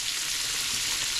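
Southern-style catfish frying in hot oil, giving a steady, dense crackling sizzle heard up close with no pauses and no voices.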